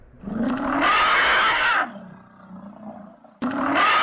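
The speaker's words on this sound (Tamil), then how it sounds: "யானைகளினுடைய பிளிரல் அதிகமா கேட்டுச்சு" Elephants trumpeting: a long, loud, roaring blast that cuts off abruptly, a quieter rumbling lull, then a second sudden, loud blast starting near the end.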